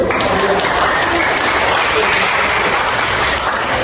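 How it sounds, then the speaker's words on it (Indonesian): An audience at a lecture gives a steady, loud round of applause, continuous dense clapping that fills the whole moment without letting up. "Sepakat, kita tepuk tangan dulu."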